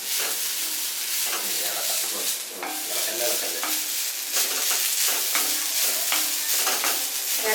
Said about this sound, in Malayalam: ഇതിന് നല്ലൊരു ഗോൾഡൻ ബ്രൗൺ ആവുന്നവരെ ഇളക്കിക്കൊണ്ടേയിരിക്കണം